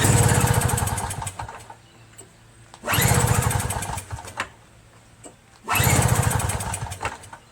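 The 5 HP engine of a 21-inch Yardman MTD single-stage snow blower is pulled over and catches in three rough, sputtering bursts, each fading away before the next, loud and close.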